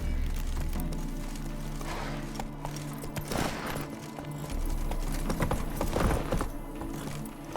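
Horse hooves galloping in the video game Witcher 3, a rapid clip-clop rhythm over a low background bed, fairly quiet with bursts of louder hoofbeats.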